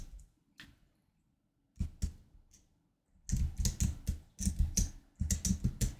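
Keystrokes on a computer keyboard while entering text for a Canva design, a few isolated taps followed by bursts of rapid typing, close and fairly quiet, with no one speaking.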